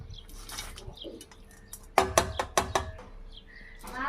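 Hand mixing tamarind rice with fried peanuts in a metal vessel, with scattered soft scrapes followed by a burst of several sharp clinks and knocks in the middle, close by, with a bird cooing faintly in the background.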